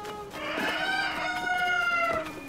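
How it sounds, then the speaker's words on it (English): Cucco chickens in Cocorico Village in The Legend of Zelda: Tears of the Kingdom cluck and crow, a sustained harmonic squawk with short clucks mixed in, fairly close and with no voices. "Alright, where do the chickens lead me?"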